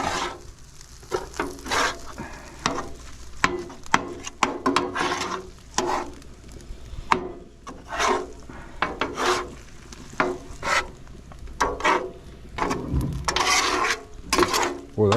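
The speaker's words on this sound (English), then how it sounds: "get everything mixed in here" Jambalaya being stirred in a pan at a campsite, a spoon scraping and rubbing through the food in repeated strokes over a faint sizzle, close and steady.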